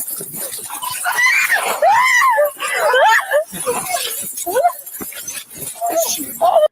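A female police officer screams, with high, wavering cries rising and falling in repeated bursts, loud and close, mixed with other raised voices and commotion.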